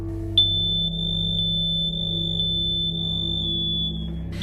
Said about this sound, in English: A few seconds after the smoke detector sounds off